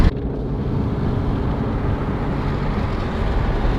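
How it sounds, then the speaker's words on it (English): Steady wind noise inside a Toyota Supra cruising at 60 mph, fitted with BMW M style mirrors and AWE wind foils; a constant, even broadband rush with low road rumble, no buffeting, uninterrupted throughout. "we're cruising 60 miles an hour and it's just normal wind noise"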